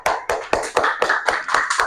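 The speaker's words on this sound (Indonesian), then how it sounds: "Marilah kita berikan tepuk tangan kepada kelompok 1." A classroom group gives a round of applause for a student team, with about eight sharp, evenly spaced claps ringing out close and clear, each one loud and bright before the next.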